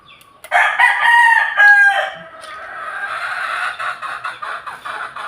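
A rooster crows loudly and close, a long drawn-out call, followed by chickens clucking and squawking nearby.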